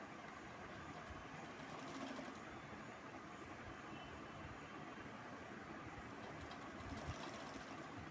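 An electric sewing machine stitches the front part of a blouse, a steady whirring drone that runs nearly the whole time, close and even.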